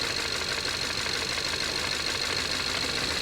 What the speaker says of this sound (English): you see how much more the engine misfires